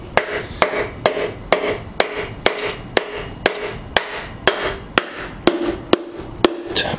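Rhythmic tapping on a part being seated back into place during a mechanical teardown, about fourteen sharp, evenly spaced knocks, close and fairly loud with brief rubbing between strikes.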